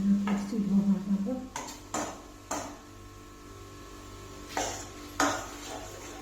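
A utensil stirs and scrapes carrot halwa in a pan. About five sharp scraping clinks come at irregular intervals over a low, quiet background.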